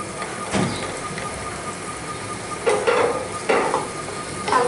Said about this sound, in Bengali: হালকা নেড়েচেড়ে নিচ্ছি।